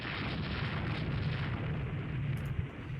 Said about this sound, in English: one of their destroyers actually got us with a torpedo